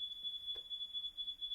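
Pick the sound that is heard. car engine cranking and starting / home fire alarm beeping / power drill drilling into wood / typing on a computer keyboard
home fire alarm beeping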